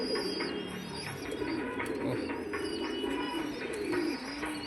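Black pigeons cooing in a loft, soft low repeated coos overlapping through a few seconds, close by, with faint chirps and background noise and no talking.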